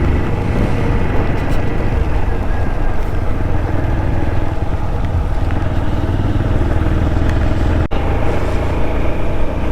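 A motorbike engine labours steadily uphill on a hill road near Megamalai, a loud, continuous drone that fills the whole stretch without letting up.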